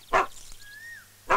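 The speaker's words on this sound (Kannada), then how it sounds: "ಬೋಗಳ ನಾಯಿಯಲ್ಲಿ ಅದು ನನ್ನ ಮುಂದೆನೆ ನಿಂತಿದ್ಯಲ್ಲ" A dog gives two sharp, loud barks about a second apart, with a quiet stretch between them that holds only a thin high tone.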